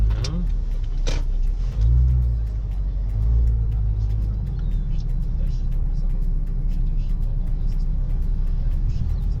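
A car on a driving lesson in Poland runs steadily with a low engine rumble and road noise throughout, a brief rise in revs early on, and an instructor's voice speaking over it.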